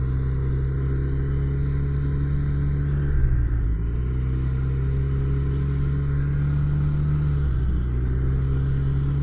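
A snowmobile engine drones steadily and loudly on a night ride through the woods around Old Forge, easing off briefly twice before settling back into the same constant rumble.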